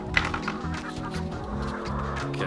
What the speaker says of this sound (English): Chickens. Wow, you guys ate all your food, huh?